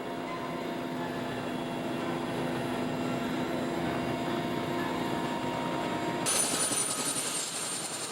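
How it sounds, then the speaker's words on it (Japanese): Helicopter arriving at a Himalayan village in Dolpo, a steady rotor and engine whine at moderate distance that holds constant, with a sharper high-pitched turbine hiss joining near the end. "75人もの武装兵士が警護に当たる中、ヘリは村に到着。"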